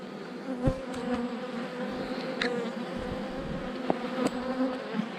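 A steady, close drone of many honey bees buzzing continuously around hive frames, with occasional soft knocks and clicks.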